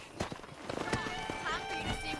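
Horse hooves clip-clop in the video game Red Dead Redemption, a handful of irregular thuds under voices talking, with game music tones and the horse close by.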